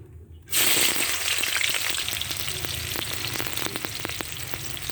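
Onions hit hot oil in a heated kadai and burst into a loud, steady sizzle of frying that carries on without a break after a brief quiet start, with occasional faint stirring clicks.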